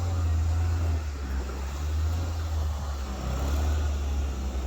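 A 1943 Willys MB jeep crawling along a rocky off-road trail gives a steady low engine drone, fairly close and constant, with no voices over it.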